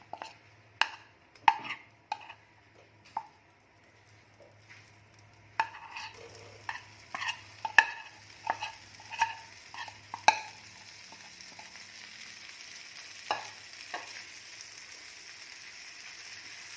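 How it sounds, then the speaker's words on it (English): Paneer cubes shallow-frying in hot butter, a soft sizzle that thickens after a few seconds under a run of clicking, scraping spatula strokes, close but fairly quiet, with no voices. "Now I am going to fry this paneer cubes."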